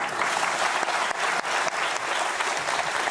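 Audience applause fills the room, a dense steady wash of many hands clapping with no gaps, sustained throughout.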